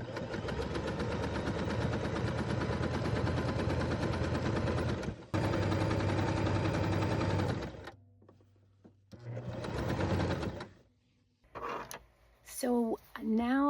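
A sewing machine runs a zigzag stitch across the bulky crotch seam of a pair of pants. It whirs in a long close burst, pauses, then runs a shorter burst, followed by a few light squeaks and handling sounds.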